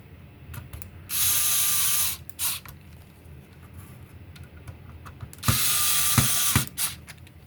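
Screws driven into the fan of a Nintendo GameCube DOL-001 during reassembly, two close bursts of fast whirring ratcheting about a second each, separated by quiet handling clicks.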